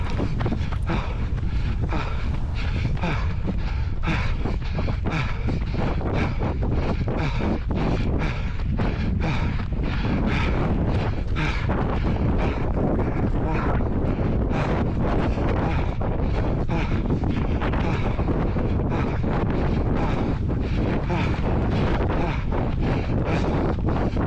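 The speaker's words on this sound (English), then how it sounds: "Still feel the wind." Steady wind buffeting a microphone while a runner heads downhill into a headwind on a coastal 5K parkrun course, a constant loud rumbling roar with gusty flutter running throughout, no voices.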